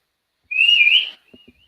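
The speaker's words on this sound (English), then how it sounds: "I whistle to my puppies." A single sustained whistle about half a second long calls to puppies, clear and close, followed by a couple of faint soft knocks.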